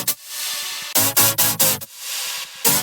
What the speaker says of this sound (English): there's a lot of saws layers,